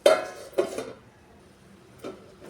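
Lid set onto a cooking pan on a low flame: a few sharp metallic clanks, two close together at the start and two more a moment later, with quiet gaps between.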